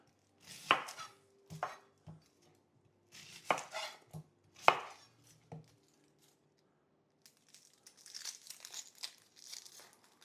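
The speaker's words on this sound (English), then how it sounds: "what we're going to do first is we're going to chop our onion" An onion is chopped with a knife on a cutting board while low carb spicy meatballs are prepared: a handful of crisp, separate chops sound up close, followed by softer rustling and crinkling of the onion skin.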